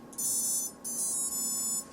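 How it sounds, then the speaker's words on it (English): Electronic speed controllers on a mini quadcopter give short high beeps as the battery is plugged in, three tones in a quick sequence, alone and fairly quiet. "Plug your battery back in, you're going to hear these ESCs beep"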